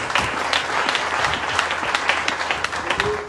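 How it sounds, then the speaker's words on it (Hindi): Loud, steady applause from a business gathering for Dolphin Travel Marketing in India, a continuous wash of many hands clapping close by with no pause. "एक बार जोरदार तालियां डॉल्फिन ट्रैवल मार्केटिंग के लिए।"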